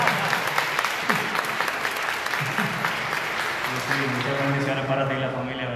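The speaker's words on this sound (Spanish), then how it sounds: "Un fuerte aplauso." A congregation at a Catholic Mass claps steadily and enthusiastically, a dense patter of hands that carries on throughout, with a voice starting to speak near the end.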